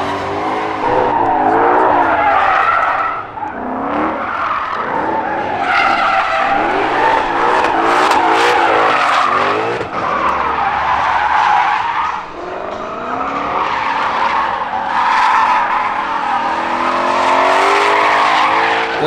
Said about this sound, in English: nothing like a bunch of Mustangs drifting